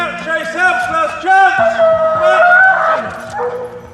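A police dog barks, yips and whimpers in excited bursts during a building search in London, loud and close, with a voice talking alongside it.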